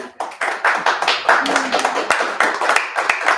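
An audience at a spoken word event in a gallery claps steadily for several seconds, dense and fairly close, with a brief voice rising faintly midway.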